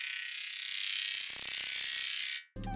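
A sustained, high-pitched synthetic laser buzz with a rapid fluttering pulse, the high layer of Zarya's particle cannon sound in Overwatch, holding steady for about two seconds before cutting off abruptly.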